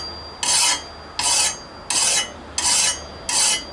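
Five evenly spaced rasping strokes of a hand file sharpening an 11-year-old Craftsman lawnmower blade, close and fairly loud, each stroke about half a second, taking surface metal off.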